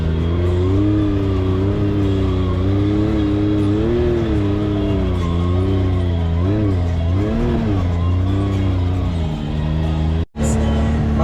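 Loud, steady engine drone of a BRP Maverick X3 off-road vehicle climbing a forest hill in Zakarpattia, pitch rising and falling with throttle throughout, with a brief dropout near the end.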